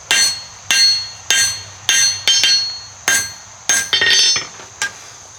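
Hammer blows on hot metal while forging a coat rack, about nine sharp ringing strikes at a steady rhythm with a quick double hit near the end, loud and close.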